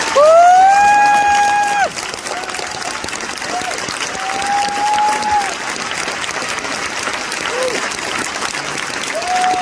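A large party conference audience applauds a speech honouring NHS staff, sustained dense clapping with cheers and a shrill whistle near the start, continuing steadily throughout.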